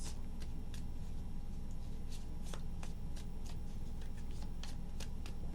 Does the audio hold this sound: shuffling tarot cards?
yes